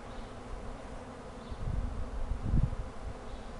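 A honeybee swarm clusters around a branch, giving off a steady, fairly faint droning buzz that swells briefly in the middle with no voices.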